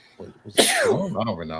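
A single sharp, loud sneeze bursts out in the middle of a man's speech, with talking just before and right after it.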